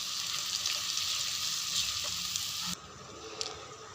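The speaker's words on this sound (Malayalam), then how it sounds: "ചട്ടി ചൂടായി, എണ്ണ ഒഴിച്ചിട്ട് ഇനി ഇതെല്ലാം വഴറ്റിയെടുക്കുക കേട്ടോ." Vegetables with chili powder, turmeric and dried red chilies sautéing in hot oil in a pan, giving a loud, steady close sizzle that cuts off abruptly near the end, leaving a faint hiss and a small clink.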